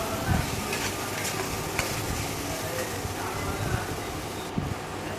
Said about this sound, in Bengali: তো এটাকে ভালো করে নাড়িয়ে চাড়িয়ে আমি মিশিয়ে নিচ্ছি।